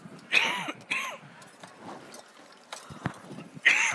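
A few raspy coughs caused by cooking onions, two close together near the start and another at the end, with quieter breathy sounds in between.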